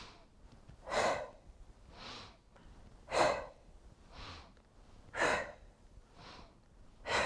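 Slow rhythmic yoga breathing, alternating inhales and exhales in a steady paced cycle, soft and close, each breath swelling and fading with quiet gaps between.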